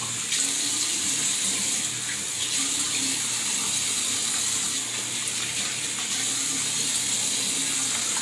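Water runs steadily from a tap while skin is rinsed clean, a continuous close hiss with no talking.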